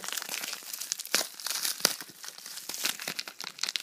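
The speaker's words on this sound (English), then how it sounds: "So let's just cut open this bubble wrap." Bubble wrap mailer being cut open, close crinkling and crackling plastic with sharp tearing snaps in an irregular rhythm.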